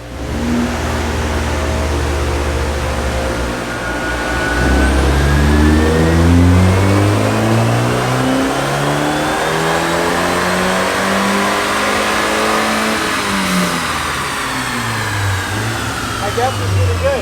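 An Abarth 500 on a dyno revs up through the gears under load, its small four-cylinder engine rising in pitch in a loud, steady sweep and dropping back between pulls, with people talking over it.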